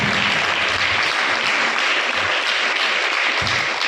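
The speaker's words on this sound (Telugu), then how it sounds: "చప్పట్లు కొట్టొచ్చుగా గట్టిగా." A congregation at a Christmas worship service bursts into loud, sustained applause, a dense wash of clapping filling the room for several seconds.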